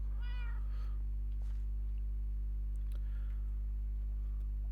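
A cat in the video game Minecraft gives a short, clear meow at the start, followed by soft game sounds over a steady low background hum.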